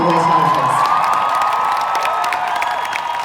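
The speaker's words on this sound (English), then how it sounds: "thank you for the applause" A large arena crowd at a concert in Munich cheers and applauds loudly and continuously, with high screams and whoops over dense clapping.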